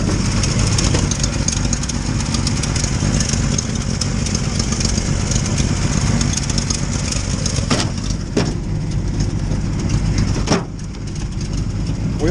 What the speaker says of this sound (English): Here's the motor with it running.